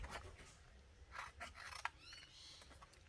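Scissors snip through stamped cardstock up close, a few quiet, crisp cuts and slides in an uneven rhythm with no talking.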